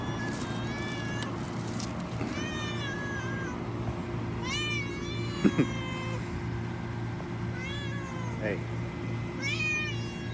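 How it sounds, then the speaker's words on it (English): A cat meows repeatedly in rising, wavering calls in a Nagasaki street, over a steady low engine hum, with a person briefly speaking nearby. "What are you meowing about?"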